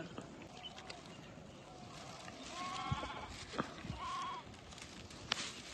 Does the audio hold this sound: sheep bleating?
yes